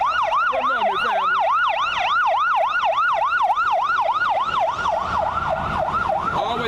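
An ambulance siren wails through a city street in a steady, loud rising-and-falling cycle, close and continuous, with faint traffic beneath it.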